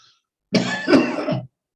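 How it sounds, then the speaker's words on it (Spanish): A single short fit of coughing, close and fairly loud, with a few rough bursts run together, then silence. "no sé por qué hoy me ha dado tos"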